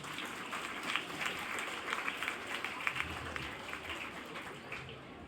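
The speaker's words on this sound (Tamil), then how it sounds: "எங்கே உங்கள் கரகோஷங்கள்?" A crowd at a college arts festival claps steadily, a dense even patter of applause that holds at moderate volume throughout without talk over it.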